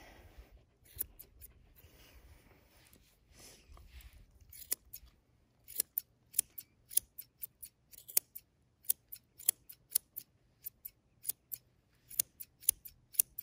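Scissors snip repeatedly while trimming a doodle dog's ear during grooming, starting with a few scattered cuts and then settling into a steady run of crisp, close snips with no talking.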